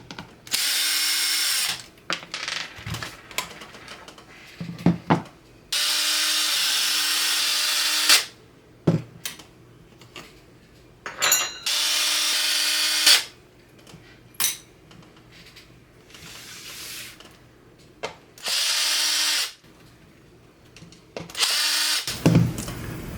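A power drill backs drywall screws out of an Orange Crush amplifier cabinet in several loud, steady whirring bursts of a few seconds each, separated by quieter clicks, clatter and handling noise.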